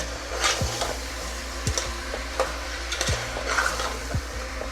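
A spoon stirs chopped tomatoes with powdered salt in a pan, scraping and clinking in a steady rhythm over a continuous close, loud sizzle.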